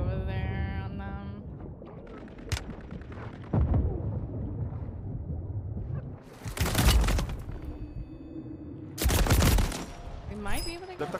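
Gunfire in the battle royale shooter Warzone rings out in two loud, sharp bursts over steady game noise, with a voice talking now and then.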